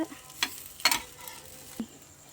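Milk and egg dipped bread toast on a hot griddle pan gives faint sizzling with a few soft scraping stir and flipping clicks, quiet and close with no talking.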